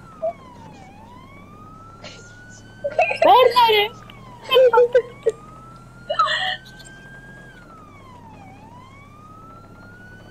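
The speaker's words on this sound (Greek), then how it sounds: "Περιπολικό, κάντε άκρη!" Police car siren in a video game, a steady rising-and-falling wail sweeping through the whole stretch at moderate level, with excited voices shouting over it in bursts.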